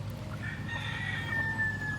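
Hens in a backyard run cluck and a rooster crows nearby, a drawn-out call rising over a steady low hum of farmyard background.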